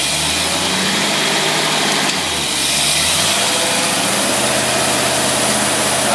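Car engine with a Carter AFB carburetor, running loud and steady at close range with a constant low rumble and a slight shift in tone partway through.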